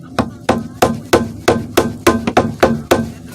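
A mailbox post being tapped into place with a hammer, a run of about ten sharp, evenly spaced knocks close by, each with a short ringing decay.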